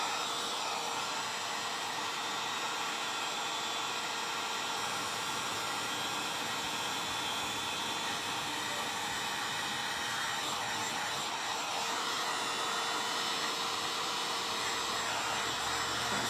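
A hair dryer runs continuously at close range, a loud, steady whooshing roar drying paint on a wooden pumpkin, with no speech over it.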